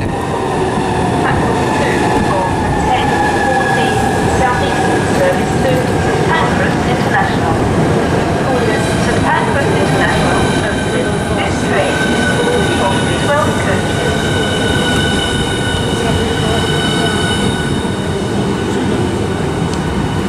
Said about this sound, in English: that's a 1014 Southeastern service from Margate to London St Pancras